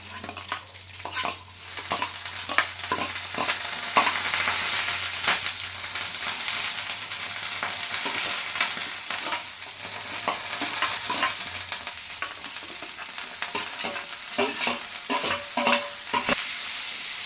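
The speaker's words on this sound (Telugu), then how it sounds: "మొత్తము కలియబెట్టుకోవాలి ఉల్లిపాయలండి అలాగే టమాటీలు పచ్చిమిరకాయలు" Onions, tomatoes and green chillies fry in a pan as they are stirred, giving a steady close sizzle broken by repeated scraping clinks of the spoon, with no one talking.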